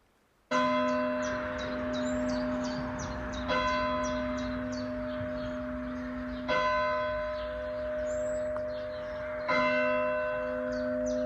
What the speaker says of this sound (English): Just listen to those bells.